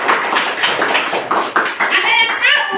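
Students in a classroom clapping for a classmate, a close, uneven burst of hand claps and taps, joined by lively young voices calling out toward the end.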